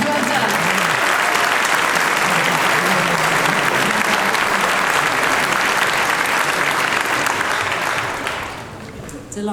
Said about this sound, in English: Do you want to stand up and take this applause?